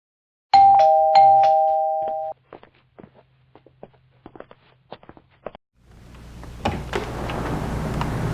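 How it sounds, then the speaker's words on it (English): A doorbell at a house late at night chimes in three clear, ringing tones, followed by scattered light footsteps and taps, then a rising wash of rustling noise. "I'll ring the doorbell"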